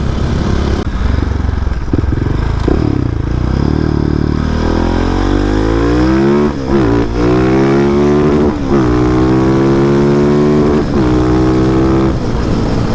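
A motorcycle on a first ride pulls hard through the gears, the engine note rising in pitch with each pull, dropping briefly at shifts, then climbing again, loud and close throughout.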